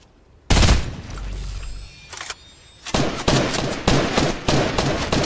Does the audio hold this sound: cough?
no